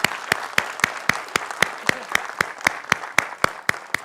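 Audience at an Atomy India felicitation event clapping in a slow, loud, evenly spaced rhythm, about four claps a second over a crowd murmur.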